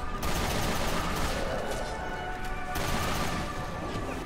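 Barry's machine gun in the Resident Evil game firing in a sustained, dense burst of rapid gunfire with explosive crashes, loud and continuous throughout with no talk.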